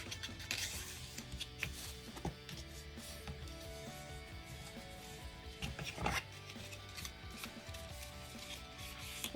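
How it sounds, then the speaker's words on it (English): Quiet, steady rubbing as a folded card tent fold is burnished, a soft continuous friction sound with a few slightly louder strokes, close and alone. "So folding and burnishing."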